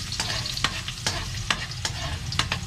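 Food frying in hot cooking oil, a close sizzle punctuated by regular sharp stirring clatters and crackles about every half second, with no speech.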